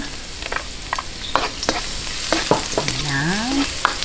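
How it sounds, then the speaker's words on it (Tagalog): Garlic sizzling as it fries in a pan for a Filipino meatball sauce, a steady frying hiss with scattered crackles and stirring scrapes, close and alone. "Lagay natin ang bawang."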